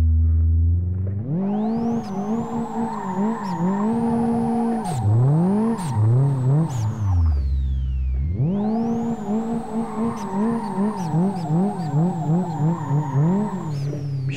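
A rear-wheel-drive Chevette in the racing game Live for Speed squeals its tires in two long sweeping bursts over a revving engine, with a brief drop in between.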